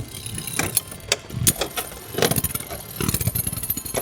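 A custom 3D printed Beyblade with a gargoyle bearing grinding and scraping around a plastic stadium, rough rattling friction with sharp knocks and clicks, close and fairly loud.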